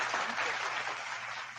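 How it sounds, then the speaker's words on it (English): Applause from a live audience at an online interview event, a steady dense wash of clapping held at an even level for a moment with no break. "Applause."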